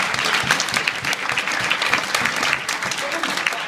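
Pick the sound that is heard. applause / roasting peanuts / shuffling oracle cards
applause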